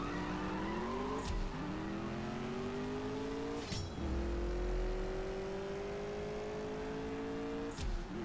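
Race cars in CSR Racing 2, among them a McLaren P1 GTR, roar steadily through the gears, the engine pitch climbing and then dropping at each of several shifts across the run, loud and continuous.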